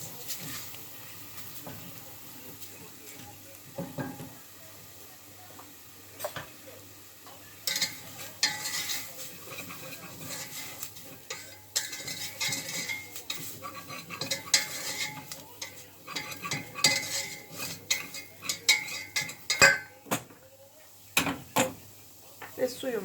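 A spoon stirs a heaping tablespoon of flour in a pot for broccoli soup, with uneven scraping and clinking strokes of metal on cookware that grow busier over time, while a voice talks faintly in the background.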